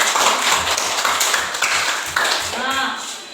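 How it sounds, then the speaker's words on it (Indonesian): Classroom applause after a student group presentation, many hands clapping in a loud, rapid patter with voices mixed in. "Berikan tepuk tangan."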